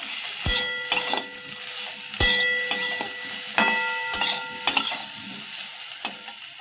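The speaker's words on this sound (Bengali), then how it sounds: "নেড়ে নেব।" A utensil scrapes and clinks against a pan in irregular strokes over a constant sizzle of yam frying with turmeric, with sharp metallic knocks now and then.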